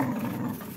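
Dogs growling low and continuously in a tense training session, a steady rumbling close to the microphone with no talk over it.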